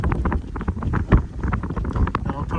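Strong wind buffets the microphone outdoors in an older Orlando neighborhood on a gusty day, giving loud, rough rumbling bursts that rise and fall throughout.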